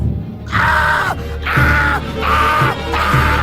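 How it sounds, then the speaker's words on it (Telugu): A horror-film heroine screams and wails in distress, four long loud cries in a row separated by short gaps, close and intense, with a low rumbling background beneath. "హీరోయిన్ కేకలు, ఎవరైనా కాపాడండి, కాపాడండి, కాపాడండి."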